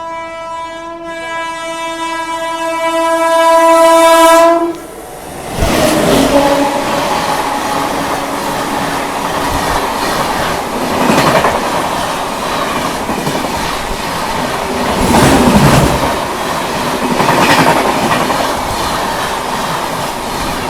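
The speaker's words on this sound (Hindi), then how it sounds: "सामने से वो आ रही है हावड़ा मेल ओवरटेक करने।" The CSMT Howrah Mail thunders past to overtake, opening with a long, loud horn blast, then a sustained roar of rushing railcars with rhythmic wheel clatter and brief squeals, close and loud throughout.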